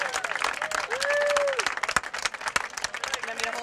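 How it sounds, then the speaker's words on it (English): Outdoor audience at a 2014 Seaway Run awards ceremony clapping for team captains: a burst of dense applause that thins into scattered individual claps, with a short whistle-like tone and some voices mixed in. "if I could just have one more round of applause for My Team Triumph captains"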